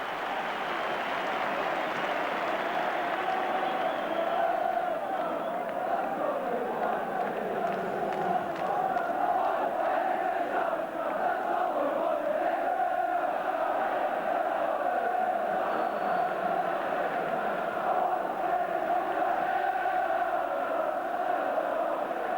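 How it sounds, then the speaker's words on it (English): Football stadium crowd at a Rangers versus St Mirren match roaring and cheering for the Rangers captain, a loud sustained wall of voices swelling early and holding steady throughout. "The crowd rising to him though."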